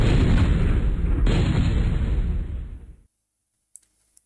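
Airstrike explosions from the MechQuest video game: a dense, loud roaring blast that rolls on for about three seconds, a second burst layered in midway, then cuts to silence with a couple of faint clicks.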